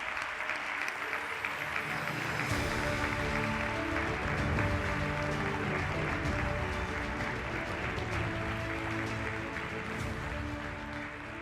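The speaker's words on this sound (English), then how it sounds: "let's give a big round of applause for one of the co-founders, Mr. Sunny Somyot Kaisontai" Big round of applause for a co-founder at a global business summit, a sustained wash of crowd clapping that stays loud and even throughout with no talking on top.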